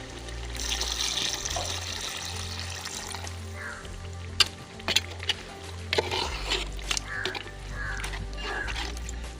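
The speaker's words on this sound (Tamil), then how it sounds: "இப்போ இது வேக தேவையான அளவு தண்ணி சேர்த்துக்கலாம்" Water pours into a pot of sautéed chicken biryani base in a steady stream, with faint kitchen clatter and a few sharp clinks alongside.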